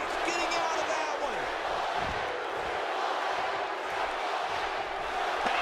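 A wrestling video game crowd cheers steadily, a dense roar of arena noise running throughout beneath a commentator's voice, with a few dull thuds from the ring.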